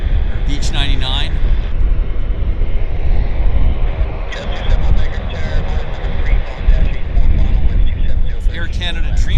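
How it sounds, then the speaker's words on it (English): A Beech 99 turboprop in American livery at Vancouver airport, its engine rumbling steadily at moderate distance under ongoing outdoor background noise, with no one speaking. "Here's that American King Air,"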